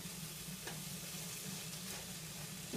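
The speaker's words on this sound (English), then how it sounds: "Fry this chicken up nicely." Chicken pieces with Mediterranean spice sizzle steadily in a frying pan, a continuous soft crackle with a few scraping stirs, heard close but quiet.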